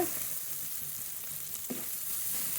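Spice paste with a little water frying in a pan for a rohu fish curry, a steady close sizzle broken by a few brief stirring scrapes.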